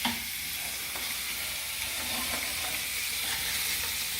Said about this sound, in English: You can see that the sausage are now starting to brown nicely on one side, and we'll just continue cooking them until they're browned on all sides